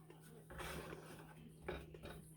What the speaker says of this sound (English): We're going to put a couple of tablespoons of flour into our grease. And we're going to stir it up good.